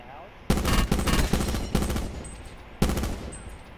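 Gunfire in Call of Duty Blackout: several heavy, loud close shots or short bursts fired at roughly half-second intervals, then a pause and one more blast, each trailing off in a decaying echo.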